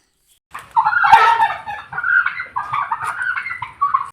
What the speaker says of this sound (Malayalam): പലതരത്തിലുള്ള കോഴികളൊക്കെ ഉണ്ടായിരുന്നു